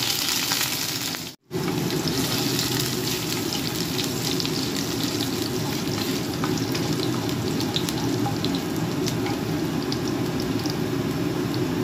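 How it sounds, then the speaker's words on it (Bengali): Garlic tempering for loitta fish sizzling in hot oil, a dense continuous hiss close by, steady throughout apart from a momentary dropout near the start. "এর মধ্যে একটু দিয়ে দিলাম রসুন ফোড়ন"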